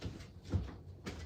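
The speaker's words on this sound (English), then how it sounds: "I'll open the door." A door opening on a foggy night, heard as a few soft thumps and a brief scrape or creak at close range, with low rumbling background between the movements.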